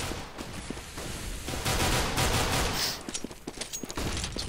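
Rapid bursts of rifle gunfire from a Counter-Strike match on de_dust2 at a DreamHack tournament, sharp cracks in quick volleys with short gaps, loud and close, and no talking.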